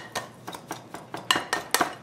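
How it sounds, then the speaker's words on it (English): Pastry blender cutting room-temperature butter into flour and sugar in a bowl for a crumb topping, heard as a string of about eight close, scraping metallic chops in a steady rhythm, with no talking. "I'm just gonna use a pastry blender because it's easier to do."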